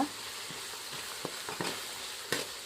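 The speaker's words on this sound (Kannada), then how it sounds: "ಇದಕ್ಕೆ ಚೆಂದಾಗಿ ಕೆಂಪಗಾಗಿ ಫ್ರೈ ಮಾಡ್ಕೊಂಡ್ರಿ" Dried curry leaves fry in a pan with a soft, steady sizzle broken by several sharp crackles and scrapes of stirring, close and moderately quiet, with no voices.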